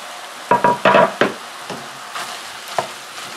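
Butter melts with chopped onions and celery in a pan for keto holiday stuffing, giving a soft sizzle broken by several sharp clatters and stirring knocks near the start, then quieter frying.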